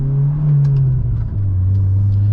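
A 2006 Acura RSX Type S with a catback exhaust and short ram intake drives on the road, its exhaust droning steadily and rising briefly under throttle, close and loud with no talking.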